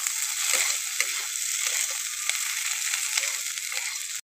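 Garlic and slit green chillies fry in oil in a pan for a Bengali fish and potato-brinjal curry, producing a continuous bright hissing sizzle nearby with faint stirring scrapes.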